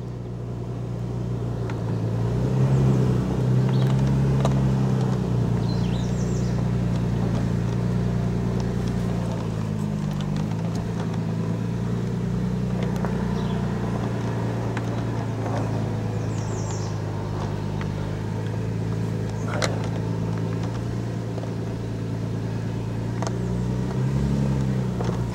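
A rear-wheel-drive truck's engine drones steadily as it reverses up a hill in a yard, a loud low rumble with slight rises and dips in revs, heard close and without voices.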